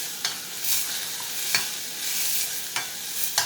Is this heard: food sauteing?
yes